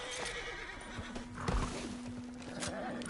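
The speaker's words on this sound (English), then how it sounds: "Hey, that's a nice looking horse you have there." A horse whinnies loudly in the Red Dead Redemption 2 video game, one strong neigh in the middle of the clip over faint hoof clip-clops and a low outdoor background.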